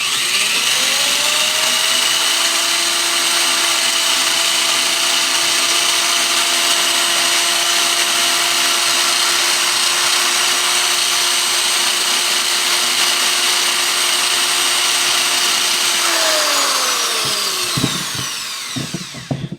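A power drill ports Ford E7 460 cylinder heads, holding a loud, steady high whine for about seventeen seconds with grinding texture from the metal, then spinning down and stopping with a few clatters at the end.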